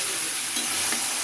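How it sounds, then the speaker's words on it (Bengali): Jujube and tamarind pickle sizzles in a pan while being stirred, a close, even frying hiss with a couple of soft scraping strokes of the spoon. "বড়ই দিয়ে ভালো করে নাড়িয়ে নিয়ে আমি এরপর গুড় দেবো।"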